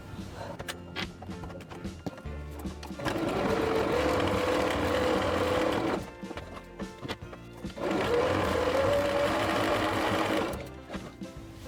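Sewing machine running a straight stitch on a fabric notebook pouch in two sustained whirring runs of about three seconds each, close and steady, with quieter handling noises before and between.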